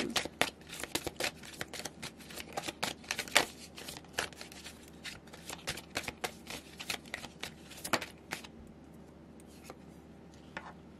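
Tarot cards shuffled and handled up close, a long run of crisp, fluttering riffles and soft slaps in quick, uneven bursts, quieter toward the end.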